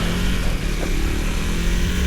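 A 2025 KTM 390 SMC-R supermoto motorcycle with a modified exhaust, giving a steady, close engine drone with a low, meaty tone that holds nearly level throughout.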